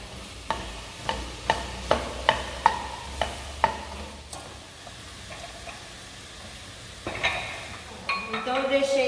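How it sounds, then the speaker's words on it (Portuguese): Onions are stirred in a very hot pan before being flambéed with cognac: a run of sharp, regular utensil clinks against the pan, then a pause and a rising hiss and sizzle as liquid hits the heat. "eu vou flambar aqui a nossa cebola com conhaque"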